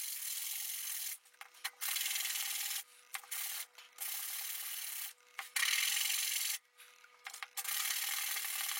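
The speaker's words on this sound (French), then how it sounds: "Petit coup de ponçage." Sandpaper rubs over wood for a homemade workbench in close, steady hissing strokes, broken by several short pauses and soft knocks between bursts.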